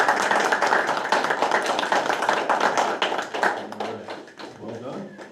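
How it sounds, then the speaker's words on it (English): An audience applauds at a Fort Edward Board of Education meeting, a sustained round of dense clapping that tapers off near the end, with a voice speaking over it. "We'll give you a round of applause."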